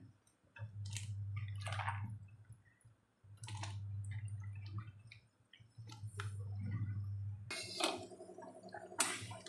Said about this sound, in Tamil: தண்ணி கொதிக்கிறதே கத்திரிக்காயை போட்டுறேன்